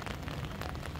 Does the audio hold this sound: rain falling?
yes